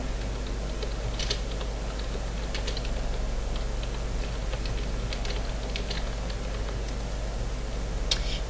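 Soft, rapid clicking of keys on a computer keyboard, irregular taps over a steady low hum, no one speaking.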